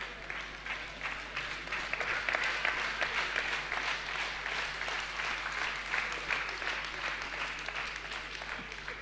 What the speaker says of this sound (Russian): The women are clapping.